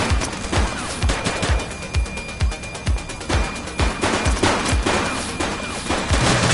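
Heavy gunfire in the police video game The Precinct: a sustained barrage of loud, rapid shots with booming low thumps repeating roughly every half second, dense and continuous throughout.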